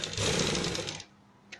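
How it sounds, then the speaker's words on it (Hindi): Sewing machine stitching a golden fabric designer neckline with piping, a dense close whirring run for about a second that then stops, leaving a quiet tail with a faint click. "अब हम यहाँ से इसे इस तरह सिलेंगे"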